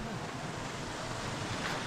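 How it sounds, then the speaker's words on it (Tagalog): Water rushing steadily past, a broad continuous wash with a low rumble underneath, near and even in level with no voices. "Dumadaan yung tubig"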